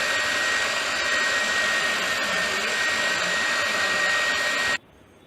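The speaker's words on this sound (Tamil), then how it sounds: "கேரட்டையும் கொஞ்சம் கொஞ்சமாக சேர்த்து பீட் பண்ணி கொள்ளுங்கள்" An electric mixer beats carrot cake batter with a constant close whirring drone for several seconds, then switches off abruptly, leaving quiet room tone.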